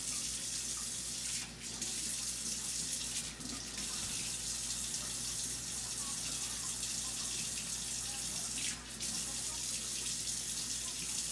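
Water running steadily from a tap while a large clay pottery vase handle is pulled, a continuous even rush lasting the whole stretch, with a couple of brief dips and no talking.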